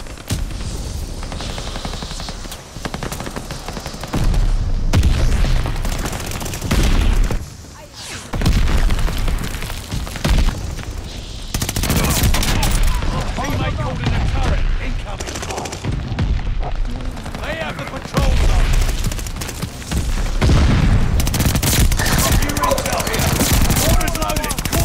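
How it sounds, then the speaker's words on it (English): Allied mortar fire in a video game, repeated heavy explosions and booms mixed with dense gunfire, loud and chaotic across a long battle, with occasional voice callouts in between. "Heads up! Allied mortar fire coming!"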